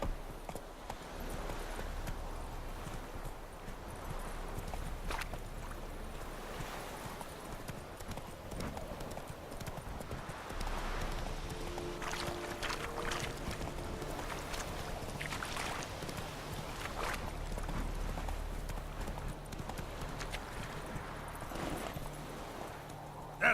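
Roach, the horse in The Witcher 3: Wild Hunt video game, clip-clops with a rapid, rhythmic hoofbeat at close range, over soft wind-like game ambience.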